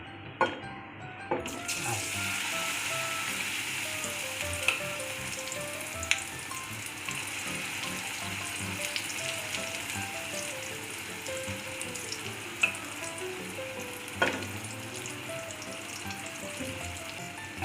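Instant handvo batter of fenugreek and spinach sizzles steadily in plenty of oil in a pan over low heat, a dense continuous fry close by with occasional sharp clicks and utensil taps.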